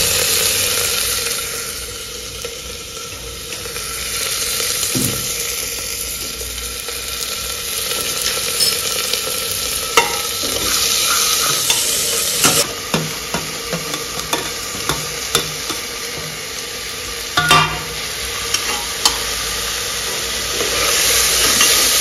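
Banana flower cooked with spices and tomato sizzles steadily in a pan while a spoon stirs and scrapes, with clicking knocks toward the end; close and fairly loud, no talking.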